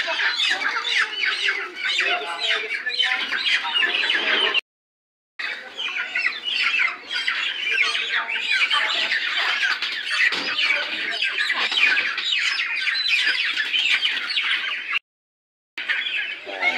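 Chickens squawk and cluck continuously in a dense, loud flock, with brief pauses and rustling as birds are handled and passed along to be loaded into crates.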